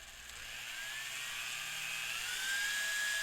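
A power tool runs steadily at very low RPM on a material that melts quickly, giving a continuous high whine that rises slightly in pitch, close and alone with no talk.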